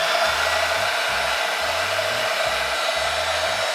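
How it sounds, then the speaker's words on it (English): A bandsaw cuts a knife template from steel, its blade producing a steady loud whine while short low-pitched bursts of cutting pulse beneath it in an irregular rhythm. "we're going to cut out the design on the bandsaw"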